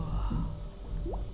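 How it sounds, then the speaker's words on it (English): Water is pumped through pipes in the Samorost 3 video game, heard as a steady gurgling, squishy liquid flow with a drip and a rising bubbly squelch near the end. "Let's pump the water."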